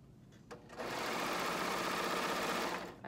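A sewing machine stitches a T-shirt seam in a short steady run, starting after a brief pause and whirring evenly before stopping.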